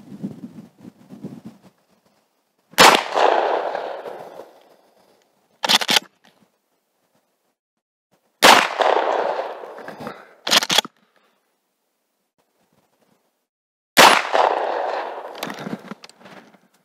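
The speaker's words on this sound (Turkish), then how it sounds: "Bununla 3 adet atış yapacağım yutonguma." Three loud shots of 32-gram ammunition are fired at a Yutong target, spaced several seconds apart, each a sharp close crack with a trailing rumble and a brief clatter soon after.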